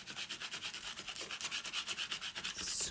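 A raised embossed paper tag being burnished by scraping a tool along it, giving a steady rhythmic rasping rub of quick back-and-forth strokes, close and fairly quiet.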